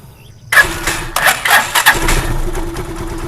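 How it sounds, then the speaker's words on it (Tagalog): A Rusi Chariot 175 motorcycle engine cranks with a few sharp bursts after a brief silence, then catches and settles into a steady close idle with no talk. "Paparinig ko sa inyo yung andar ng ating chariot."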